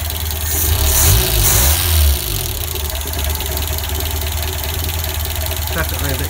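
A Renault 11 with the Cléon 8-valve engine idles steadily after a valve clearance adjustment, a close, even mechanical thrum with a brief louder rise near the start before settling into a constant idle.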